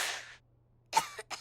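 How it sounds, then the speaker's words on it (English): Small cartoon pug puppies sneeze in short, sharp bursts: one fading sneeze at the start, then after a silent pause a quick series of little sneezes and snorts, close and fairly quiet. "please try to catch your sneezes in your tissue, little pugs"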